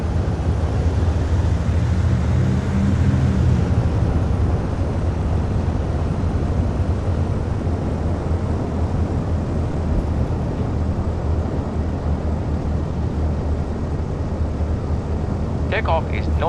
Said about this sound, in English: Okay, go ahead and take off.